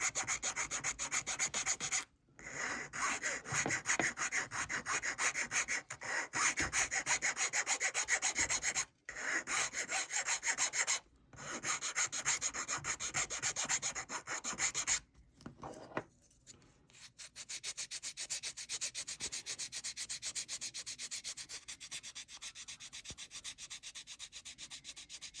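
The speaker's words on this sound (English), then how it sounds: "So I take my file and I just kind of clean this up a little bit, smoothing out any bumps." A file smooths bumps on a bassoon reed in steady, close rasping strokes, a sustained gritty scraping broken by a few short pauses.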